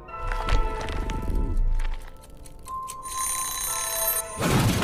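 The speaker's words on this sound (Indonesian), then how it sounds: "Alien itu mendengar suara alarm yang berbunyi." An alarm ringing during a tense scene in a creature horror film, a bright repeating electronic tone sounding close amid low rumbles and thuds, ending with a heavy crash.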